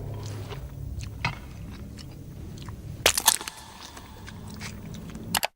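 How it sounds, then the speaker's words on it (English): Cherry tomatoes are chewed in a film scene, with close, wet crunching bites and squishy mastication, including a few sharper crunches, over a faint ambient background. "Denethor chewing on cherry tomatoes like it's a horror movie"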